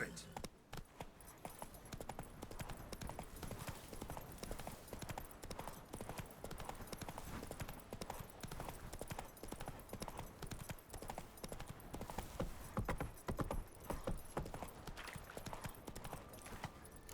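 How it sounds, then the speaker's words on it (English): Horse hooves clip-clop in a steady galloping rhythm in The Witcher 3, fairly quiet and mixed under voices speaking. "Not so fast, Roach"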